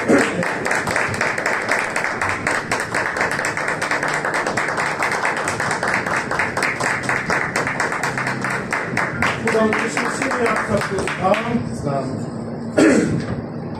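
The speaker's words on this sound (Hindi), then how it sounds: "जोरदार तालियां खुदा के जिंदा कलाम के लिए" A church congregation at a Hindi-Urdu sermon claps in dense, steady applause that fills most of the stretch, then thins out near the end.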